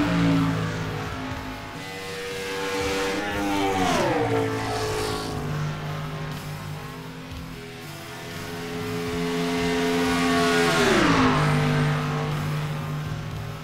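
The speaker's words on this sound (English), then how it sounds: "Now following the 49 car of Ivan Deschamps." Race cars from a racing video game on the Kansas track drone steadily with layered engine tones, their pitch sweeping down sharply as cars pass close by twice, with no talk over the continuous roar.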